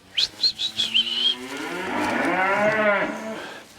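Several cows moo loudly and close by, a few short calls followed by a long, drawn-out low bellow, with a faint whistle-like tone early on.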